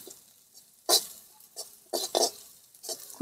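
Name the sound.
green chillies frying and stirred in a pan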